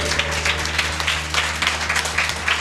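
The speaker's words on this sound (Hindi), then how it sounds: "जोरदार ताली बजाएं यीशु के लिए" A church congregation at a fire prayer and healing service claps for Jesus: dense, steady applause sustained throughout, fairly loud, with a low hum underneath and no clear talk.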